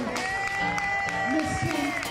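An audience at the outdoor Fulton Art Fair arts festival clapping and cheering after a performance, a dense wash of applause under a voice speaking over it.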